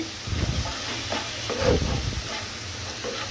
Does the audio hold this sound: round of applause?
no